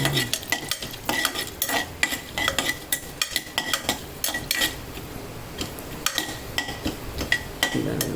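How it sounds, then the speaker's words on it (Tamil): Cinnamon fries in hot oil in a pot for an empty salna curry, with a low sizzle under frequent metallic clinks and scrapes of a stirring spoon against the pot. "பட்டை எண்ணெயில் பொரியும் நல்லா வாசமாக இருக்குது"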